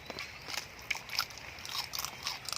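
Crunchy bites into fresh blue crab in a big tray of spicy Thai papaya salad, with a run of short crackling crunches close to the mic and no talk.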